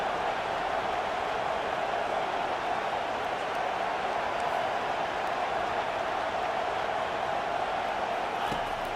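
Stadium crowd in a college football video game, USC Trojans vs. Tennessee Volunteers, a steady dense roar of cheering held at an even level throughout, with a commentator talking over it.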